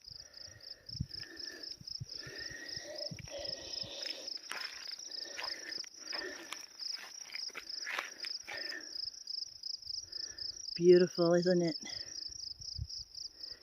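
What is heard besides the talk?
crickets chirping at night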